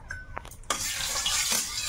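Snakehead fish steaks seasoned with turmeric and salt frying in hot oil in a kadai, a steady loud sizzle that swells as the pieces go in, with a few utensil clinks at the start and no talk.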